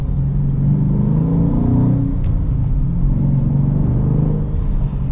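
Manual Dodge Challenger Scat Pack Widebody under partial acceleration, a loud, steady, deep engine rumble that rises slightly in pitch as the car gathers speed, heard close up from inside with no talking.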